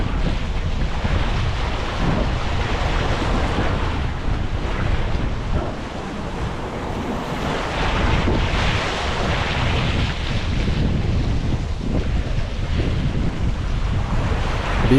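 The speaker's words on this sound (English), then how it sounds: "the waves are much bigger than this format shows you" Ocean waves heard from a small sailboat sailing solo on open water toward Fiji, with big crossing swells. A continuous loud wash of water and wind buffets the microphone throughout, with no voices.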